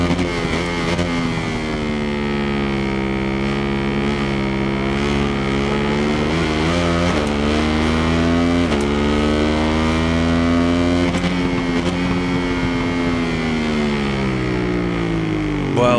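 A 2008 Ducati 1098R motorcycle engine at Donington in the racing game Ride 5, roaring loud and continuous, its pitch climbing and falling through gear changes as revs rise and drop, with no talking.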